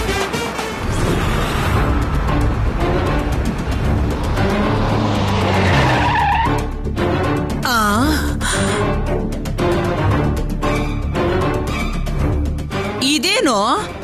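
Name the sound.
car skidding to a sudden stop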